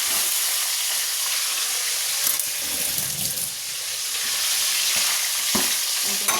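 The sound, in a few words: fish head frying in a pan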